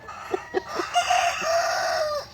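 On a farm, an asil/shamo crossbreed rooster gives a few short clucks, then one long, loud crow close by. No voices are heard.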